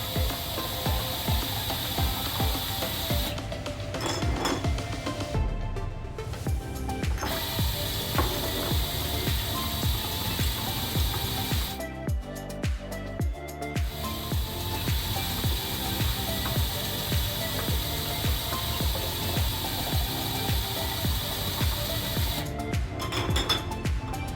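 A Hanchen HC-40 dual-head peristaltic pump fills hot sauce bottles, giving a continuous mechanical whir and rhythmic rotor clicking throughout. A few brief gaps break it, and the sound stays close and steady.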